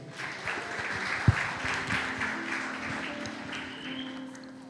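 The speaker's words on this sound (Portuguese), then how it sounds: "Uma salva de palmas para nossos irmãos." A church congregation claps together in a moderately loud, even rattle of many hands with one sharp knock early on, continuing steadily to the end.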